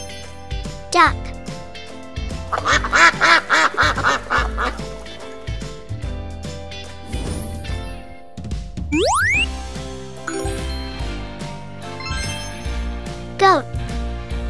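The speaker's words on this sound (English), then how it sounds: "Duck." A duck quacks in a short burst of honking calls, set among playful music with bright sound effects and a voice.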